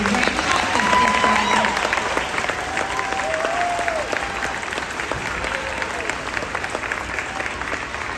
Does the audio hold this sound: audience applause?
yes